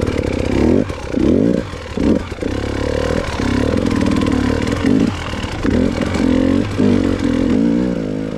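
A KTM motorcycle ridden hard on a rough track, its engine close and loud, revving up and dropping off repeatedly as the throttle opens and closes through the ride.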